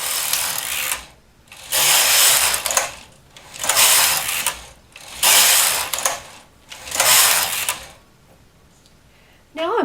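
A knitting machine carriage sweeps across rows of variegated pink, white and mint green yarn, making five loud, whirring mechanical passes with short quiet gaps between them.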